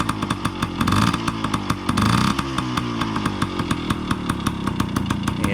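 A Yamaha PW50 dirt bike with carburetor and throttle cable trouble runs rough, its buzzy engine close and steady with two brief throttle surges that sag as it bogs down.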